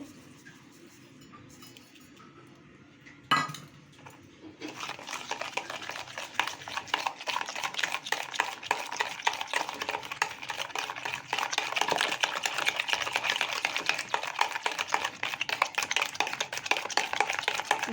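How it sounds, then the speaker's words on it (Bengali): Eggs and sugar are beaten in a bowl, starting after a quiet moment and a single knock, then fast, continuous close whisking clatter that grows slightly louder, with no voices. "ভালো মতো ডিম আর চিনিটা ভালো মতো আমি মিক্স করে নিচ্ছি"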